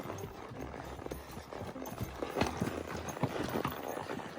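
Hooves of a large horse clip-clop in a steady walking rhythm along a pine-forest mountain trail in Wyoming, close and moderately loud over faint outdoor background, with a heavier thud as it steps over a log.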